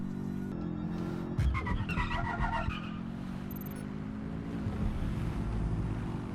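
Car driving in Watch Dogs Legion with a steady engine drone and a long tire skid squealing across the middle, close and loud, with no talking.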